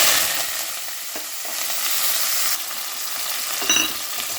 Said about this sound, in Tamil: இப்போ நம்ம அரிஞ்சு வச்ச வெங்காயத்தையும் கருவேப்பிலையும் போட்டுடலாம்.